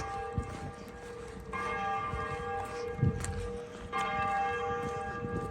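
A church bell rings in a Dutch town, its tolls repeating at a steady pace with a sustained ringing tone between strikes, moderately distant over quiet street ambience.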